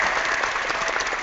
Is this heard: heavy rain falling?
no